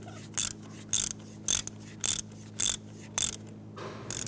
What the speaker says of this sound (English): you can go ahead and run it down the rest of the way with your ratchet.